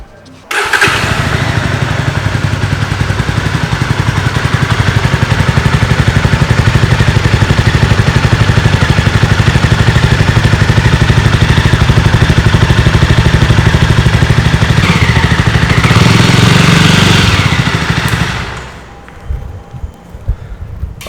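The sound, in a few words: motorcycle exhaust sound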